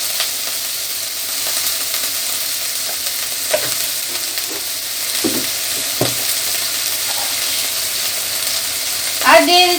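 Spice masala with turmeric powder and salt sizzles steadily in a pan while being cooked for a stuffed spiny gourd (kakrol) dish, with occasional spoon scrapes and stirring knocks over the constant frying hiss.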